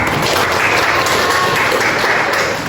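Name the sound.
class applause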